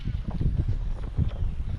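Strong early-morning wind buffeting close to the microphone while bass fishing, in low, rumbling gusts that rise and fall throughout.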